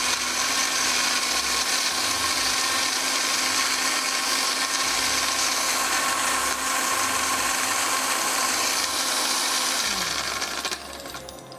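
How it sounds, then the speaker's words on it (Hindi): A kitchen blender whirs steadily while making juice, a loud continuous motor drone that runs for about ten seconds and then winds down near the end, with no talking. "चलें, अब हम अपने जो ब्लेंडर जो जूस बना रहे हैं उसको हम करते हैं स्टार्ट।"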